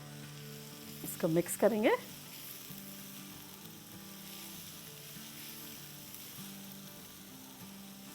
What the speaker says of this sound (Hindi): साथ ही हम थोड़ी सी ये अपनी लाल मिर्चें भी डाल देंगे।